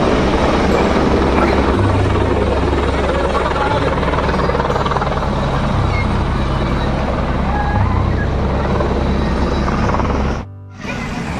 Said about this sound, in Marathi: बघू शकता मित्रांनो हेलिकॉप्टर लँड झालेला आहे